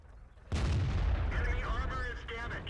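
Tank cannon shot in World of Tanks fired from a WZ-132 light tank at a Jagdpanther II, one sudden heavy boom followed by a rolling roar and echoing tail with faint chirps, close and loud.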